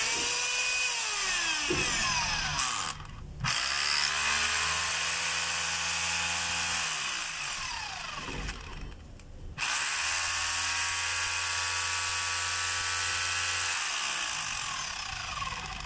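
A DeWalt D25133 rotary hammer runs in loud, close bursts of rapid hammering and whining motor, stopping twice briefly between runs, with no talk.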